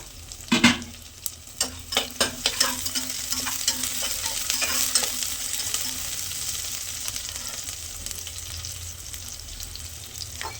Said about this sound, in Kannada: ಅದಕ್ಕೆ ಬೆಳ್ಳುಳ್ಳಿ ಹಾಕೊತಾ ಇದ್ದೀನಿ